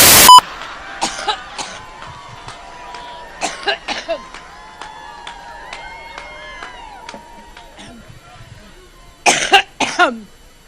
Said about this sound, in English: He's coughing in the middle of my answer